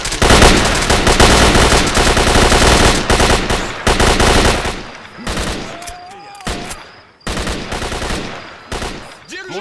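AK-74 rifles in the game Stalker open up in a dense, loud machine-gun barrage for several seconds, then break into shorter separate bursts and single shots with brief gaps between them.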